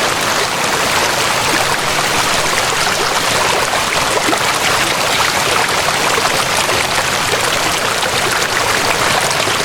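Floodwater rushes after Typhoon Yagi in Vietnam's mountains, a loud, dense, unbroken roar of churning water that fills the whole stretch without voices.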